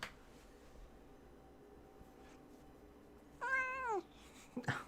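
A pet cat indoors in a game room gives one clear, drawn-out meow of about half a second near the microphone, followed by a brief rustle; the rest is quiet room tone.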